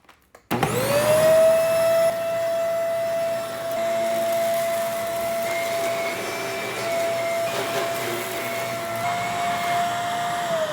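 A vacuum cleaner picks up shed rabbit fur indoors, switching on with a rising whine and then droning loud and steady for the rest of the clip.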